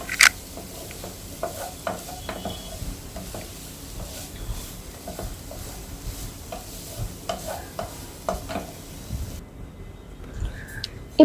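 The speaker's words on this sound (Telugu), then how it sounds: "కొంతసేపు బాగా ఈ కొబ్బరిని వేపాలి." Grated coconut frying with sugar in a pan, stirred steadily by hand, giving a soft continuous sizzle broken by frequent scraping strokes of the spoon against the pan, close and moderately loud, with no talk.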